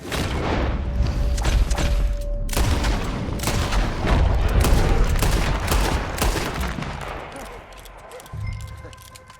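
Dense bursts of gunfire and booming shots from a Red Dead Redemption 2 shootout, loud and continuous, with voices mixed into the battle.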